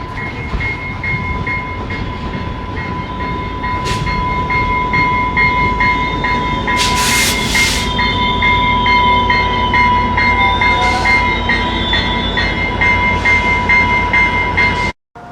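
A train rolls past somewhere in rural Texas with a loud, sustained rumble and rhythmic rail clatter, a steady tonal whine riding over it and a few sharp squeals and hisses, before it cuts off abruptly at the end.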